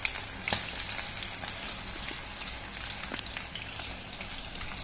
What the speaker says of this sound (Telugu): ఇప్పుడు చిన్నగా ఒక్కొక్క ముక్కను ఈ విధంగా టర్న్ చేసుకోండి, గోల్డెన్ బ్రౌన్ కలర్లో ఫ్రై అయ్యేంత వరకు